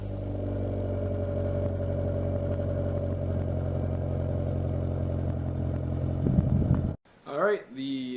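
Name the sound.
Acura Integra exhaust running with silencer removed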